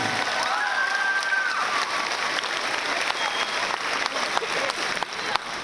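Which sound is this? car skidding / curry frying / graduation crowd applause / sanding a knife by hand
graduation crowd applause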